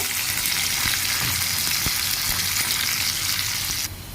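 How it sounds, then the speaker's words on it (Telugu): Chopped onion and green chillies fry in hot oil for a prawn and gongura dish, giving a steady, close, full sizzle with faint crackles that drops slightly near the end; no talking. "ఇంక ఇక్కడైతే ఆనియన్ పచ్చిమిర్చి అయితే వేగుతూ ఉన్నాయి"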